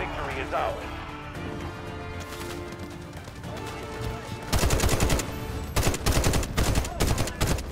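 Heavy-recoil gun firing in the shooter Delta Force, loud rapid bursts of shots starting midway and repeating in clusters over a background of game ambience and voices.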